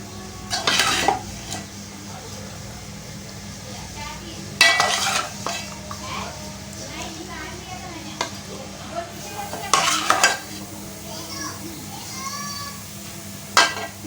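A spoon scrapes and clanks against a biryani pot as chickpea korma is layered over the rice. A few loud metallic knocks come at spaced intervals over a low, steady kitchen background.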